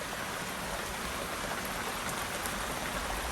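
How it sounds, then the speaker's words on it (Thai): Heavy rain pours down steadily in a dense, unbroken hiss, close and loud throughout, with no voices. "ฝนตกหนักเลย"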